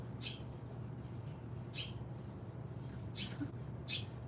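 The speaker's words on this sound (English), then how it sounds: "That little bird is trying his dangest to get up there" A small bird lets out four thin, high chirps spaced a second or so apart over a steady low indoor hum, faint and a little distant.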